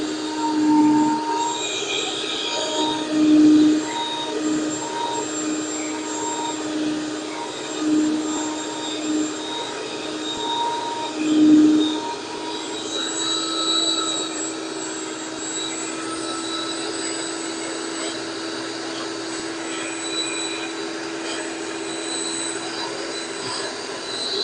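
Electric mixer on its highest setting whipping cream into butter, a continuous loud whining motor drone with occasional thumps and scrapes of the beaters against the bowl, close and steady throughout.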